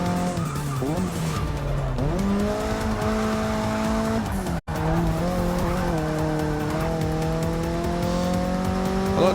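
Race car in the Forza Motorsport 6 video game cornering with the handbrake on, engine tones sliding up and down steadily while tires squeal and skid throughout, loud and continuous with a brief cut near the middle.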